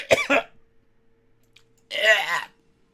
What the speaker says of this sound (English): Is that I coughed really loud.